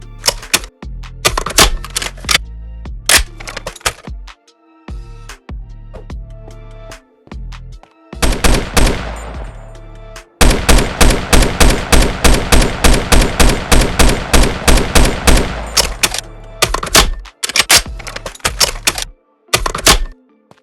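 A SCAR rifle fires in a Minecraft TacZ gun mod, crisp mechanical clicks and single shots at first, then long rapid bursts of automatic fire, then scattered shots, all loud and close with no talking.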